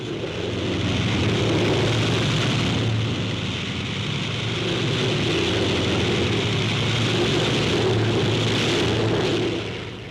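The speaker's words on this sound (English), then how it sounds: "JATO gets these SB-2Cs aloft in a flash in the Pacific, where every second counts." SB-2C aircraft take off with JATO rocket assistance in the Pacific, a loud, sustained roaring rush that holds steady for about ten seconds and swells slightly near the end.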